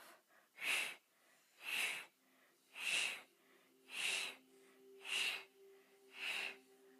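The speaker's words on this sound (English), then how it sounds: "Breathe out through the mouth" A person exhales through the mouth during a steady-breath exercise, six slow, evenly spaced breathy whooshes, close and soft, with a faint steady hum underneath.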